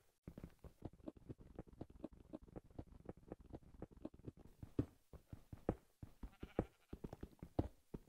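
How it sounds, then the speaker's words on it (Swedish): Sheep in Minecraft bleat over and over in quick, choppy bursts, a steady run of short, close calls filling the whole stretch with only brief gaps. "Nu hör jag fan får bräka."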